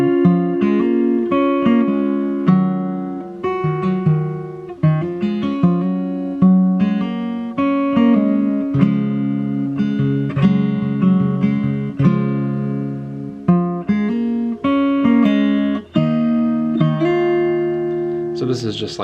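Fingerstyle acoustic guitar playing a melody picked over a steady thumb-picked bass rhythm, with clear, close, ringing notes and no talking.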